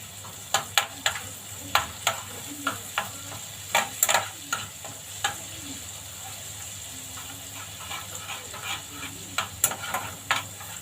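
Chicken liver and gizzards sauté in ghee in a pan, crackling with a steady sizzle punctuated by repeated sharp scrapes and clinks of stirring, close up.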